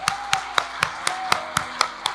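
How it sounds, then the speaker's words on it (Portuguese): A church congregation claps in a steady, even rhythm of about four claps per second, the sharp regular beats ringing through the hall during a worship conference. "Aplauda o Senhor pela sua palavra"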